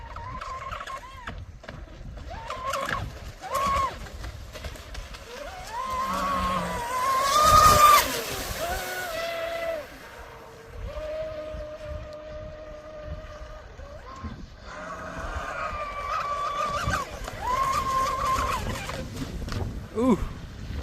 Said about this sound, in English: The boat's been sitting here cooling off, so we'll give it one more good run.